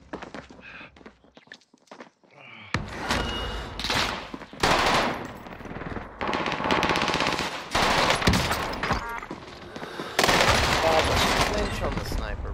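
Gunfire in the video game The Cycle, with rapid bursts and bright shots repeating through most of the passage after a quieter opening, loud and close, mixed with game sounds.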